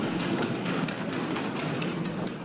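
A bobsled races down an ice track at high speed, a steady loud rumbling roar with rattling clatter, continuous throughout like a passing train.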